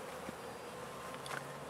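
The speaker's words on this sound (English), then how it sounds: "I see a bee here with pollen on her legs." Honeybees buzzing around a hive entrance as foragers return carrying pollen, a steady quiet outdoor hum with a few louder bees passing close.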